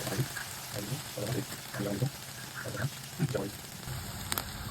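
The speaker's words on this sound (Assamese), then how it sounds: "তেলখিনিতে মই ইয়াত দি দিছোঁ পিঁয়াজ।" Onions fry in hot oil for an Assamese fish curry, a soft continuous sizzle running beneath a voice, with a brief louder clatter near the end.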